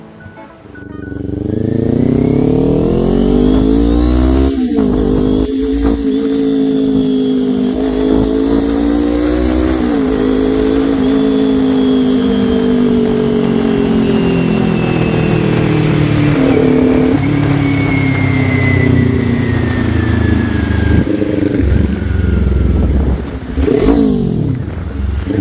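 Motorcycle engine running steadily while riding through North Caloocan streets toward Deparo, a continuous loud drone that rises and falls with throttle changes and gear shifts, with no talking over it.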